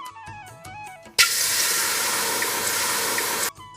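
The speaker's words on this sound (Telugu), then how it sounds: "దాంట్లో కొంచెం నీళ్ళు పోయి" Water pours steadily into a cooking pot on a lit stove for about two seconds, a loud, continuous splashing rush that starts abruptly and stops cleanly, following a short stretch of musical tones.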